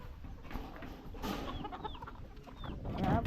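Chickens clucking at a poultry farm compound, several birds calling in short uneven bursts over a steady close flock murmur, loudest toward the end.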